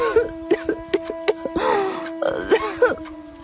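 A woman, a wife sick with tuberculosis in a cartoon story, coughs and clears her throat in a string of short rasping bursts with strained, moaning breaths between them, close and fairly loud.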